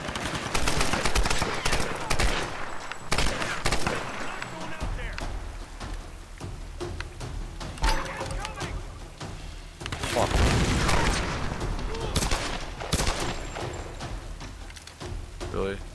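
Big guns fire in rapid, heavy bursts in the Tomb Raider (2013) game, with dense booming volleys that keep on and off throughout and a voice talking over them.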